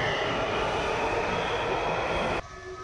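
A subway train pulls out of a station in Washington, DC, a loud continuous rumble and rush of wheels on rail that cuts off sharply near the end, leaving a quieter hum.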